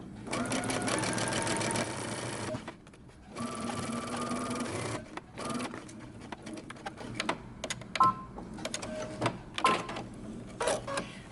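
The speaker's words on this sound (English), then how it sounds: "I'm going to be using a basting stitch, and I'm not going to back stitch." Sewing machine running a basting stitch along a romper bodice seam, rapid close mechanical whirring in bursts of a couple of seconds, then shorter stop-start runs with clicks and pauses between.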